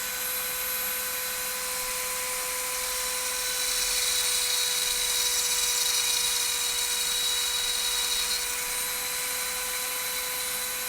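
A Dremel rotary tool grinding, a high, steady whine that rises in intensity midway and then eases, running continuously and close with no speech.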